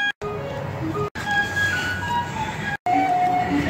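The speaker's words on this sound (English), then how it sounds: "And the riverboat playing the music." Music playing from a paddlewheel riverboat, the Spirit of Peoria, on the Illinois River, heard as a loud, steady tune with sustained melodic tones across the stretch, cut by brief dropouts.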